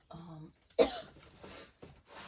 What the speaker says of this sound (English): oh, that made me cough.